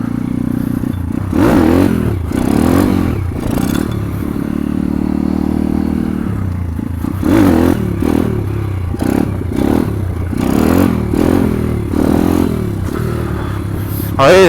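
A 140 cc motorcycle during low-speed wheelie practice, the engine rising and falling in repeated revs with clattering mechanical noise, loud and close throughout with no talk.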